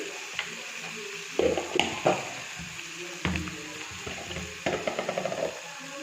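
Chilli powder and turmeric are stirred in a pan over a lowered flame while making macaroni, with bursts of scraping strokes and a faint sizzle between them.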